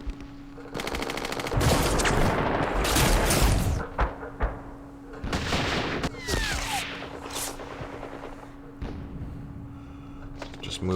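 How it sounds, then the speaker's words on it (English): Bursts of machine gun fire and heavy thuds in the Campaign Series Middle East wargame, loud rapid volleys broken by pauses, with a voice talking in between. "Let's do some firing."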